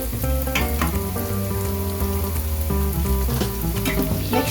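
Pieces of mitai dough fry in hot oil, a dense, continuous crackling sizzle that stays close and steady throughout, with no voices.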